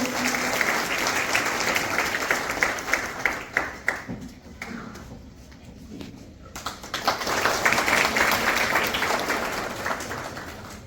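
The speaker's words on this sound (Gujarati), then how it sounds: "જોરદાર તાળીઓથી વધાવીશું મિત્રો." An audience at a college parents' meeting for Vasant Panchami applauds to welcome the principal, dense clapping that thins and dips briefly in the middle before swelling again to a strong, sustained ovation.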